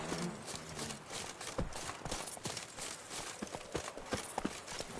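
Horse hooves clip-clop steadily at a walking pace in The Witcher 3, with a busy rhythm of soft, close thuds over a faint ambient background.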